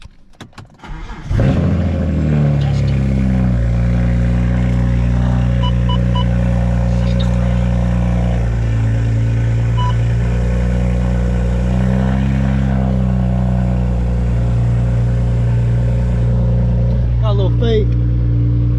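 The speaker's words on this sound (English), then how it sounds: "I'm gonna just turn the car on." A BMW E92 coupe cranks and catches, then settles into a steady, loud idle with a deep even rumble and a faint whine on top, continuing without a break to the end.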